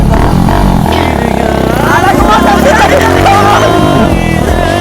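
A motorcycle engine runs loud and close throughout, a continuous droning rumble with shifting revs, while voices talk over it.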